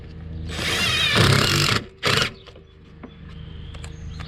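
A power driver runs screws into the carburetor of a Craftsman push lawnmower with a Briggs 550EX engine, giving a loud whirring burst of about a second, then a shorter second burst, followed by faint clicks and handling noises.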